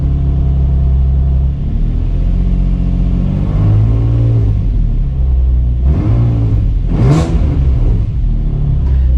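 A Nissan 350Z engine idles with a deep, loud rumble up close, then revs up and settles several times, with a sharper rising rev near the end.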